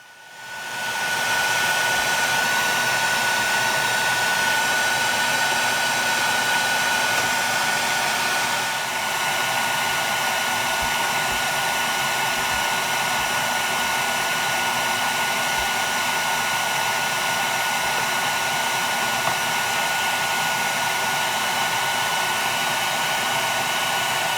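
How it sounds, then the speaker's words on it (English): A homemade bee vacuum, a power head mounted on a 5-gallon bucket with tape-sealable holes to set suction, runs as a loud, steady, close motor whir that holds unchanged for the whole stretch, with no voices. "It's a power head on a 5-gallon bucket. And then I have holes that I can tape shut to control suction strength."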